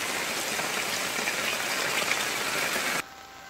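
Heavy rain pouring over flooded streets in Dhoraji, Rajkot, Gujarat, where cars sit submerged: a dense, steady roar of falling water for about three seconds that then abruptly drops to a much quieter hiss.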